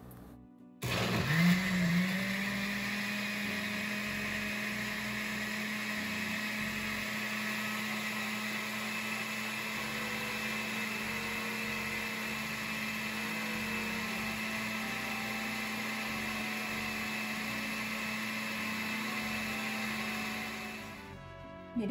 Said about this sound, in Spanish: ahora vamos a licuar